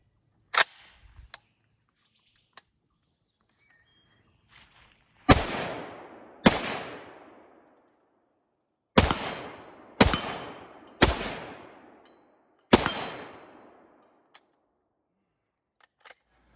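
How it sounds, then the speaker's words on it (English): Seven loud gunshots from a PTR 91 rifle fitted with a muzzle brake, each a sharp crack with a long ringing echo, fired at irregular intervals outdoors with faint clicks between. "I'm going to show you a video here of me shooting it after I'd installed it."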